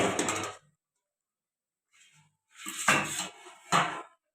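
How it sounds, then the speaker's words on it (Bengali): Metal lid lifted off a cooking pot of simmering rui fish curry with drumsticks and potato: a sharp clatter, a faint tap, then two louder metallic clanks as the lid is set aside. "এবার আমি ঢাকনাটাকে খুলে"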